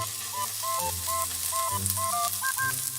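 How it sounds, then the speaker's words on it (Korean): Beef sizzles as it grills at a butcher-shop restaurant, giving a continuous soft crackling hiss under background music with no talking. "지글지글 구워지는 게 참 맛있어 보이네요."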